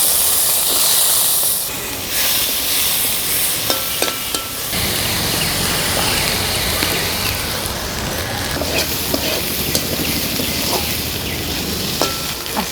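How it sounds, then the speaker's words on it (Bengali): Washed dried fish (shutki) fries in hot oil until crisp in a village kitchen, a loud, steady, close hiss of sizzling with scattered small pops and spatter throughout. "আস্তে আস্তে বেশ ভালো করে মাছটা মচমচা করে নিতে হবে ভেজে"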